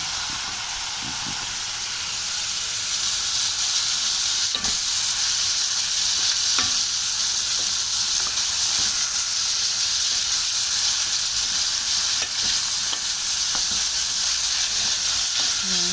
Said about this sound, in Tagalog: Nigisa ko na yung sayote yan. Sayote. May sili, sibuyas, bawang. Ayan, gisa ko muna yan.